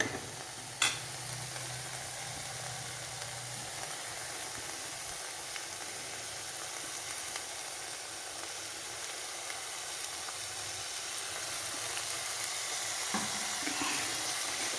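Sweet potato thoran stir-frying in a clay pot, a steady broadband sizzle and hiss of hot oil that holds continuously and swells slightly toward the end, with a brief knock near the start and no talking.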